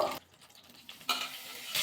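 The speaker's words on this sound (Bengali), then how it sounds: "ভাজা করতে হবে আলুগুলো এই তেলের মধ্যে" Potato and cauliflower pieces frying in oil in a pan, heard as quiet sizzling broken by short bursts of a spatula stirring and scraping.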